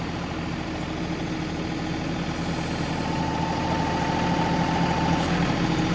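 A John Deere 2038R compact tractor engine working hard while moving soil with its loader, a loud, steady, continuous drone that holds even and slightly swells toward the end, with no talk.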